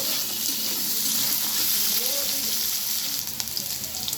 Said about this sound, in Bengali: আলুগুলো আমি বেশ ভালোভাবে এবার ভেজে নেব